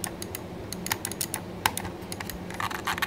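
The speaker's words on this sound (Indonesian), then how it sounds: "Ini bunyi klik kanan sama klik kirinya nih guys." Right and left button clicks of an ASUS ROG gaming mouse, a rapid run of sharp, close, dry clicks in uneven bursts with no talking.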